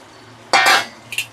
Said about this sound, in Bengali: এই অবস্থায় আমি পটলগুলো এর মধ্যে দিয়ে দেবো